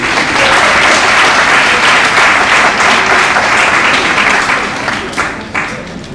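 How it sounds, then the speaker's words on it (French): Loud, steady applause from an audience at a speech event for World Children's Rights Day greets a speaker coming onstage, thinning slightly toward the end. "Vos applaudissements, s'il vous plaît."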